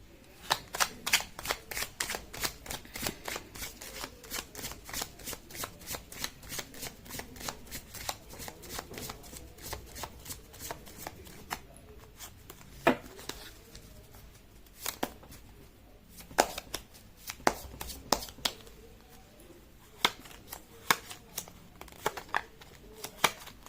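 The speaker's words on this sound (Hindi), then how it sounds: "कर लेती हूँ कार्ड की शफलिंग" Tarot cards are shuffled close up in long runs of rapid, evenly spaced riffling flicks, later breaking into slower, separate slaps and taps, with soft ambient background.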